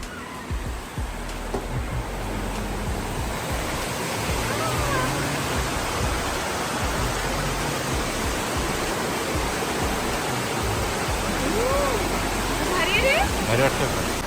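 A river flows behind a hotel balcony near the Great Smoky Mountains in Gatlinburg, giving a steady, broad rushing wash that holds evenly throughout, with faint voices murmuring underneath.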